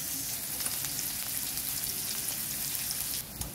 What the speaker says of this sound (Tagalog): Hayaan lang natin maluto ang sibuyas